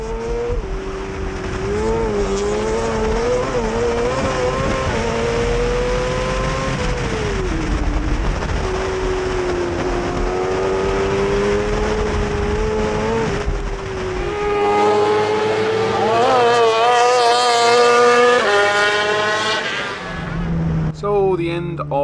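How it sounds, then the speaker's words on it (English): Racing sidecar outfits scream past at Cadwell Park during a revival race, engines wailing and rising in pitch as they pass one after another, loud and close. "Coming into the bottom of the mountain section, the Bertrand brothers came through to take the lead."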